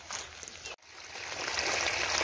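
Water pours down like a small waterfall on farmland, a steady broadband rush that briefly cuts out, then returns and swells louder.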